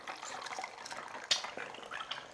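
An egg frying in a pan of hot oil for a Thai deep-fried egg salad gives off a soft, steady sizzle and crackle, with one brighter pop.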